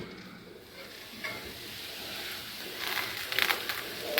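Tamarind upma cooks on a low flame in a pan with a soft, steady sizzle, joined by light stirring scrapes that grow a little louder toward the end.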